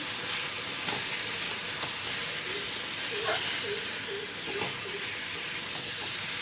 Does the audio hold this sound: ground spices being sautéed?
yes